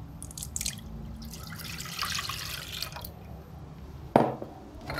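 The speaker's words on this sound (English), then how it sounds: "I'm measuring out a liter and a bit of milk straight into the pot" Milk poured straight into a pot from a container, a soft continuous liquid splash and trickle, ending with a brief louder clunk near the end; no talking.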